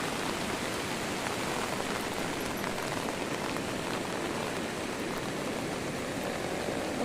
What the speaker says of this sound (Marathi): चार ते पाच दिवस झाले मुसलधार पाऊस चालू आहे